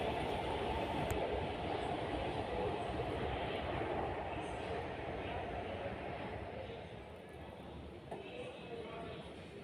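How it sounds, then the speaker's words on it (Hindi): A Lahore Orange Line metro train pulls away from a station, a steady, dense rumble and rolling hiss that gradually eases as it departs, with faint voices murmuring in the background. "और ऑरेंज ट्रेन दोबारा अपनी मंजिल की तरफ चल पड़ी।"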